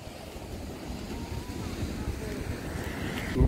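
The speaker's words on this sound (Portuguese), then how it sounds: "Agora tem vento. Vai dar um ventinho, estamos chegando na praia aqui." Steady wind buffets the microphone near the end of Praia do Buraco by Morro Careca, a continuous close, low rumble with faint surf-like wash underneath and a brief louder gust at the end.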